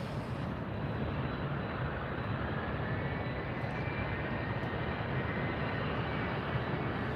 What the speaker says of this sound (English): this is United Airlines Flight 2210 coming in from San Francisco, where it left under an hour ago. 737 MAX 9, United Airlines